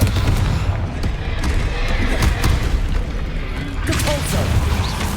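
A Confringo blast spell explodes in Hogwarts Legacy during a fight with a troll, a loud booming burst followed by rumbling blasts and crackles, with a voice calling out spell names over the top.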